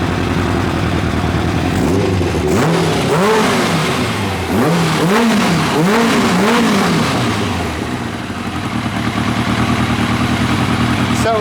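A 1990 Kawasaki ZZR1100 motorcycle engine runs up close, revving in several rising and falling blips before settling into a steady, loud idle.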